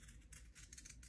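Scissors snip through fabric to trim off corners, a few quick soft crisp cuts in close succession, quiet and close with no talking.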